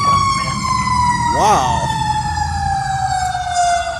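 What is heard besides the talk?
ambulance and fire truck sirens passing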